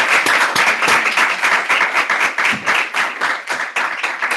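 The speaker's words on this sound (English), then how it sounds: "give them a round of applause" Dense, sustained applause from a lecture audience fills the room, many hands clapping loudly and continuously at close range with no talk over it.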